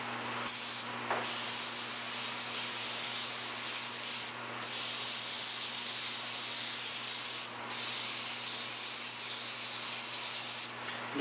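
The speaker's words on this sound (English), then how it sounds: "Just kind of going in the darker areas, letting the mist kind of go over the white." Purple mist sprayed onto a paper stencil in a series of long, steady hissing bursts, close and fairly loud, separated by brief pauses, with no talking.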